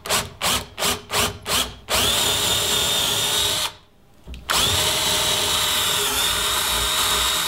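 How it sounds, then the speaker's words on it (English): A power drill buzzes into wood in five short pulses, then runs steadily, stops briefly, and starts again at full speed. "then we'll use the drill right there"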